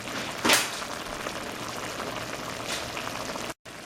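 A pot of water at a rolling boil with noodles cooking, a steady bubbling hiss with a brief splash near the start and a short cut near the end.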